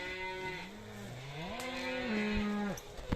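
Calves and cattle low repeatedly while being herded through riverside woodland on a move to summer pasture: long, drawn-out, close moos that rise and fall in pitch, with no talk.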